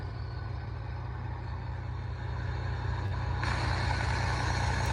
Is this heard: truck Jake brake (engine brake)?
yes